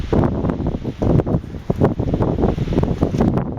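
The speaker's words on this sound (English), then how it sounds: "we knew the breeze was going to pick up" Gusty outdoor wind buffets the microphone in loud, uneven rushes and thumps, with a steady roar underneath throughout.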